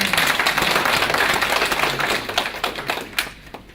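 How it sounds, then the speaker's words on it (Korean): An audience at a city briefing gives a round of applause, brisk and dense at first, then thinning into scattered individual claps that fade out. "격려의 박수 한번 드리겠습니다"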